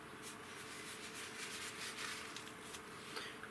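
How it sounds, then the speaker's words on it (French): A brush scrapes lightly across paint on a canvas while clouds are painted, a soft, continuous rubbing with gentle rhythmic strokes, close and quiet with no voices. "Je vais le racler un tout petit peu avec ma brosse là."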